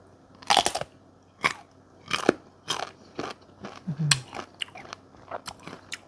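Crunchy unripe Pimsen mango is bitten up close, giving loud crisp snaps followed by wet chewing and crackling crunches at irregular intervals.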